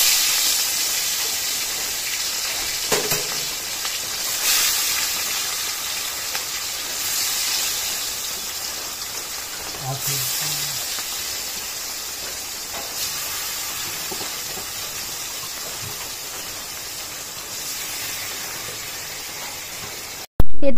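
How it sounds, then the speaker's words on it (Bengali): Fish frying in hot oil in a pan, a steady loud sizzling hiss that runs throughout with a few small pops and crackles, no talk. "এবার কিন্তু মাছটাকে ভাজি করে নেব।"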